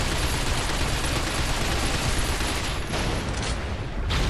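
Rapid, dense gunfire fills the Binary Domain firefight, a continuous loud crackle of shots with only a slight thinning near the end.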